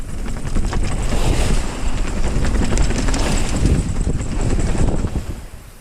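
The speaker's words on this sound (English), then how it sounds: "I haven't had this much wind in a while." Strong wind roars across a sailboat at sea, buffeting the microphone in a loud, continuous rush with waves and water noise beneath it and no voices.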